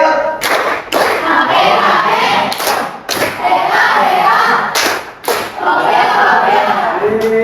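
Students in a classroom counselling lesson clap hands together in rhythmic bursts separated by brief pauses, loud and close, with sharp percussive onsets and a busy room wash between.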